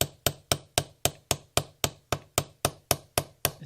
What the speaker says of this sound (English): I'd rather use little short taps like that with a small lightweight hammer